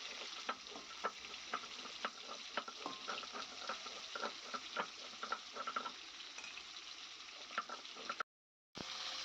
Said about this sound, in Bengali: আর ঝিঙেটা একটু ভেজে নেওয়া হচ্ছে লাল লাল করে।